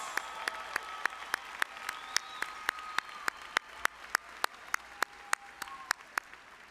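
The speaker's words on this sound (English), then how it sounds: "Will the audience please join me in applauding these honors graduates and honors candidates?" A commencement audience applauds honors graduates and honors candidates at a spring university graduation ceremony. The claps are soft and distant, falling in a steady, evenly spaced rhythm that almost sounds like unison clapping, over a faint hall hum.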